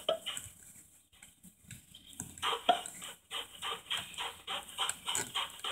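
A chicken clucks in a run of short, repeated bursts, fairly close and moderately loud, after a quieter opening stretch with no talk.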